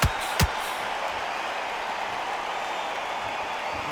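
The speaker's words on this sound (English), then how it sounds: "Crowd here cannot wait. They've been buzzing all day long" A boxing arena crowd in the video game Undisputed, at a Roy Jones Jr. vs Jake Paul bout, makes a steady, fairly faint, hissing murmur. Two sharp clicks come right at the start.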